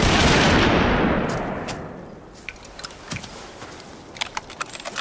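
A single loud volley of rifles from a firing squad in the Great War bursts out at once, its boom rolling and fading over about two seconds, followed by faint scattered crackles.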